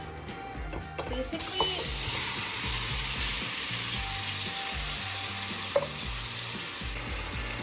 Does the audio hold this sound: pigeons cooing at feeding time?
no